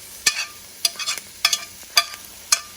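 Red onions and red pepper are slowly stirred in a pan, with about five distinct scraping strokes at an even pace over a soft background sizzle.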